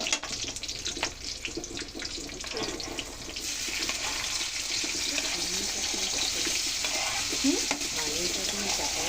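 Mustard seeds, cumin seeds and green chillies sizzle in hot oil in a pan, a steady close hiss with brief crackles and spatter throughout, carrying no speech.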